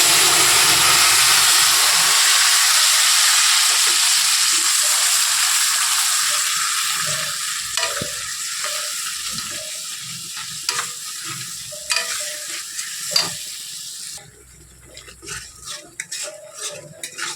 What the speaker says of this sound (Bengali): তরকারিটা এই মশলা কিন্তু বন্ধু নাড়া ছাড়া যাবে না, তাহলে কিন্তু নিচে লেগে যাবে